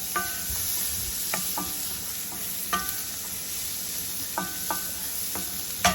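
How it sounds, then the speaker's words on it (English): Butter melts and sizzles in a skillet with tender cooked vegetables, a soft steady hiss with occasional light metallic taps and scrapes of a utensil, close and quiet, no talking. "Now I'm going to add some butter to the skillet"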